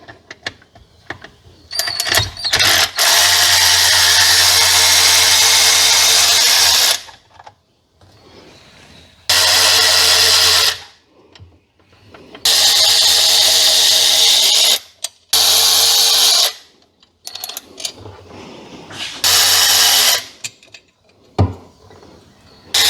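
Power tool backing out engine bolts with a 5 mm Allen bit during an engine pull on a 1997 Sea-Doo XP: several loud whirring mechanical bursts lasting a few seconds each, separated by short quiet gaps, with no talk.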